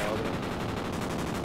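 Rapid automatic gunfire in the video game Call of Duty: Ghosts, a steady stream of close, evenly repeated shots that continues without a break for the whole moment.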